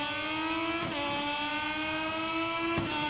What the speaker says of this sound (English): Revs up. And we are a go. Little bit of a wheelie on the line there.